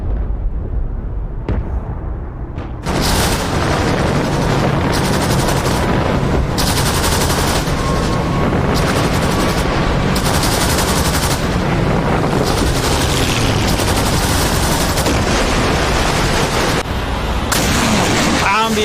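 MLRS rocket artillery batteries firing during a simulated D-Day landing battle in the DCS combat simulator, a sudden loud roar after a quieter opening, then sustained heavy blasts and rumbling salvos in repeated surges, with a voice speaking over part of it.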